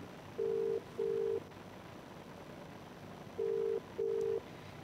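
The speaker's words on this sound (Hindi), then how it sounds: "ये फोन की घंटी आप सुन रहे हैं" Ringback tone of an unanswered phone call, two short paired beeps, then a pause, then another pair, steady and moderately faint over a low background hiss, with no talking.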